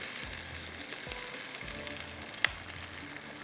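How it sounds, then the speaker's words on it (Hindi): Tomatoes frying with masala in a pan for smoked chili chicken give a steady, close crackling sizzle throughout, with a few soft spoon knocks and one sharp tap near the end. "टमाटर को मैं इसके साथ थोड़ा सा भून लेती हूँ।"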